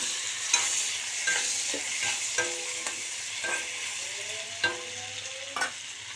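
Prawns and taro stolons frying in a pan as turmeric goes in, a bright continuous sizzle broken by regular clanking stirs of a spatula against the metal, close and loud.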